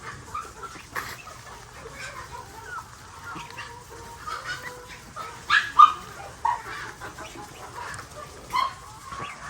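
Backyard chickens at a home cluck and murmur in scattered bursts at moderate distance. A dog barks now and then among them, and the quiet setting has no talk.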